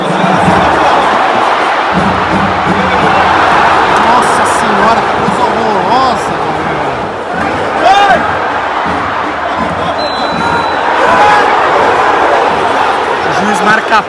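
Vasco supporters in Maracanã stadium boo and protest during a cup elimination match against Nova Iguaçu, a dense, loud, continuous crowd roar with swelling shouts throughout.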